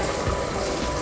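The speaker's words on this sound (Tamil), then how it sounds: "இப்போ அந்த தண்ணி தான் நம்ம இதில் ஆட் பண்ண போகிறோம்." Kettle-heated hot water is poured into a pot of mutton vellai kurma, a continuous close splashing gush with no pauses.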